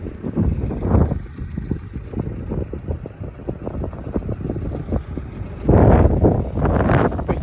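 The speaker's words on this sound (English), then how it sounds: "Might be a bit windy, might not be able to hear" Strong gusty wind buffets the microphone in low rumbling bursts at the top of a mountain pass, swelling louder toward the end.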